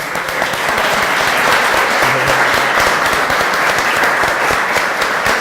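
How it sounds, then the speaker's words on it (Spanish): A university lecture audience applauds its Quichua-language teacher with loud, sustained, evenly dense clapping that holds at full strength for several seconds, close and enveloping. "Profe, parate para que te aplaudamos"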